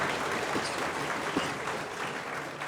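A crowd of people clapping steadily: dense, continuous applause fills the whole stretch at an even level, with no talking heard.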